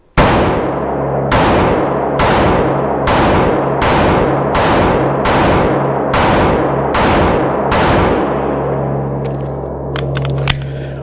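Ten loud handgun shots, drawn from concealment and fired at 10 yards on a shooting range, at a steady, unhurried pace about a second apart, each sharp crack ringing out, with no talking.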